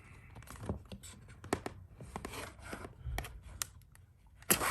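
A product packaging box for a trigger gauge is cut open, with close scratchy cuts, clicks and rustling scrapes in irregular bursts and a louder tearing crunch at the end.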